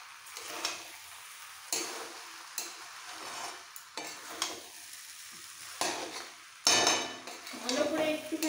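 A spoon scraping and stirring Labra, a mixed vegetable curry, in a sizzling pan, with repeated clinks against the metal roughly every second and a soft frying hiss underneath, no talk.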